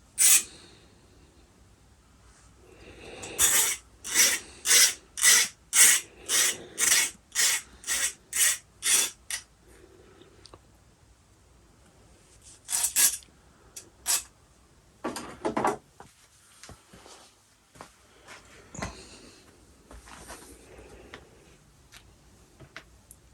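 A part from a Raptor 30 model engine is deburred in a run of short, evenly spaced rasping strokes close to the microphone, then a few scattered scrapes and pauses follow in a quiet room without speech.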